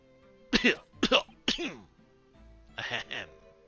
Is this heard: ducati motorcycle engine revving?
no